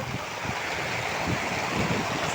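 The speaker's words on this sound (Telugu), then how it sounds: "ఫుల్ వాన. మా వాన మట్టుకు ఆగట్లేదు." Heavy rain pours down in a steady, dense wash of hiss that stays loud and constant, with no voices.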